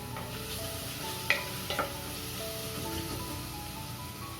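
Ginger and garlic sauté in a pan for a Kerala mutton curry, giving a steady, quiet sizzle broken by a couple of sharp spoon scrapes near the start, with no talking.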